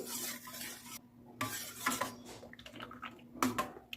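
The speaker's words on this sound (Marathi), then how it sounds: "हे ज्यूस आपण मिक्स करून घेऊ" Black grape juice stirred in a glass, a spoon clinking and swirling in several short bursts with quiet pauses between, close and moderately loud with no voices.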